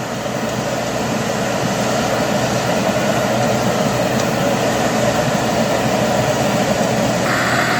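In a hazelnut orchard, a tractor's rear-mounted fan blows nuts into the next row, making a loud, steady, unbroken roar of engine and rushing air from start to end.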